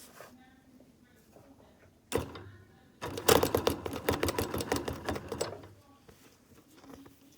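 A sewing machine stitches with a needle that sticks, giving a short clunk, then a loud close burst of rapid mechanical clatter for a couple of seconds before settling into a quiet hum.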